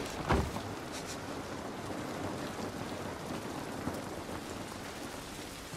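Steady rain falls outdoors in The Last of Us Part 1, a dense broadband hiss that runs evenly throughout, with one soft thump near the start and no talking.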